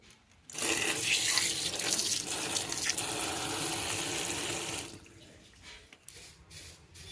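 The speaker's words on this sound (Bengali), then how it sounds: "ধুয়ে নেব মাছগুলো।" Running water gushes steadily as rohu or catla fish pieces are washed, a loud close stream for about four seconds that then cuts off, leaving faint handling noises.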